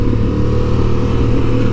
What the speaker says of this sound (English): I definitely think I'm going to have to order a new baffle for this exhaust pipe.